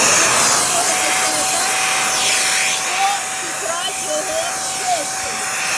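A handheld vacuum cleaner with a 0.8-litre dust container runs steadily and loudly, giving a constant broadband whoosh with a faint tonal whine throughout.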